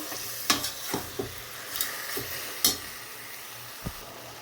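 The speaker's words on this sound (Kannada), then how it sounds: "ಸ್ವಲ್ಪ ಹಾಕಿಬಿಟ್ಟು ಸ್ವಲ್ಪ ಫ್ರೈ ಮಾಡ್ಕೊಳ್ಳೋಣ" Salted chicken pieces fry in a pan with a steady close sizzle, broken by a few soft knocks and scrapes of stirring.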